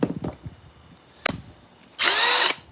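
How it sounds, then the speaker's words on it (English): A hammer drill from a woodshop gear haul runs in one loud steady burst of about half a second near the end, after a few short clicks and bumps from handling. "it's a hammer drill"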